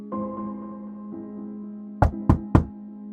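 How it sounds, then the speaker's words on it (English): Three sharp knocks on a house door in a small town, evenly spaced and close, sounding over a low sustained tonal background. "knocked once"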